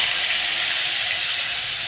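Garlic and asafoetida sizzle in hot tempering oil for pav bhaji, a steady close hiss and crackle running without pause through the short stretch, with no talk.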